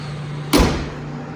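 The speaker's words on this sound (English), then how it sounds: "We'll shut the hood" A single solid thump as the hood of a 2023 Dodge Durango SRT is shut after an oil change, a sharp close impact over a steady low hum, with no talking.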